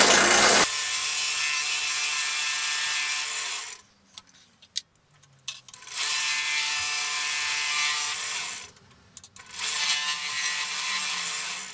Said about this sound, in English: This time I think I'm just going to go in more gently and scrape my way with a different